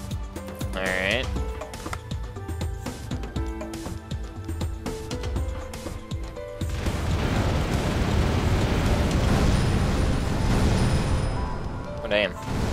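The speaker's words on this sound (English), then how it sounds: "More powerful explosions." A series of booming explosions in the video game Star Saviors rumbles loudly, followed by a sustained roaring, crackling blast; a voice speaks over the early part.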